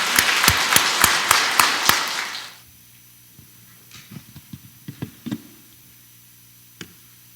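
Warm applause from a parish congregation greets the priest, Kim Minsu Ignatius, at a Legio Mariae members' education session. Dense clapping fills the first couple of seconds, then gives way to scattered taps and footsteps in a quiet hall.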